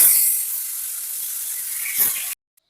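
Gurjali fish frying in hot oil gives a loud, steady hiss that swells briefly near the end and then cuts off abruptly into silence.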